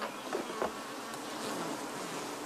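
Honey bees at their hives during a nectar flow make a steady, close buzz that fills the air, with a few louder passes as individual bees fly near.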